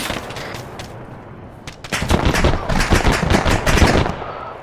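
Sustained automatic and rifle gunfire in an Arma 3 military simulation firefight, rapid overlapping bursts growing louder and denser after a quieter stretch, with shots cracking close by.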